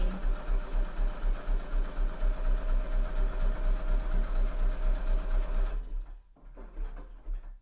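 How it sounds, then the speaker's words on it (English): A sewing machine stitches through layered sweatshirt pocket fabric in a fast, close, rhythmic whirring burst that stops abruptly near the end, followed by a few soft handling clicks. "stitch through all of those layers, and what that will do, that will hold everything lined up beautifully and in place"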